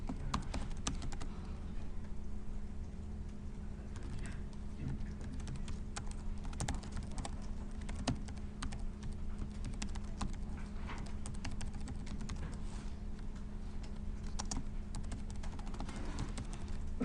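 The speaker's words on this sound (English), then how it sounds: "yes, I'm going to type it out again." Someone types steadily on a computer keyboard, with quick irregular key taps running throughout, faint and close against a low background hum, and no one talking.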